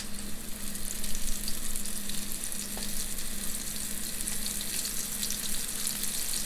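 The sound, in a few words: meatballs sizzling in olive oil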